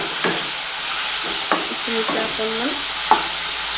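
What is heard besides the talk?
masala frying in a pan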